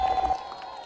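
Crowd at a political fundraising gathering in Nyeri, Kenya, bursting into brief clapping and cheers, loud at first and then fading under a faint steady tone.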